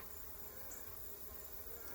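Bees buzz in a steady, dense drone inside a packed hive. The sound is close and continuous but quiet, with no one speaking.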